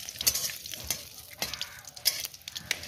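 Cauliflower frying in a pan for a home picnic meal, a soft steady sizzle with intermittent scraping and clinks of a spatula stirring, close and moderately loud, no talking.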